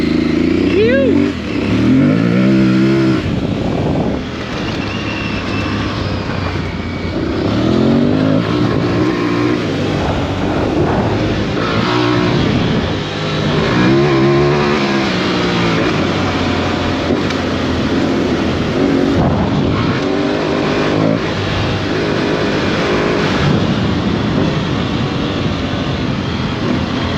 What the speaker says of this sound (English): We are on board the new Aprilia Tuareg 660, and it is a beast, people.